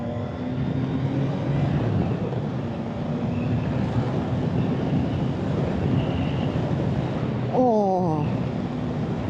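A CFMOTO 675SR sports motorcycle runs at speed with a steady engine drone under heavy wind roar, and a brief rising-then-falling rev swell comes near the end.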